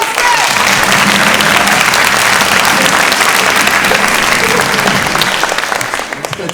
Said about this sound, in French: On applaudit Marcel!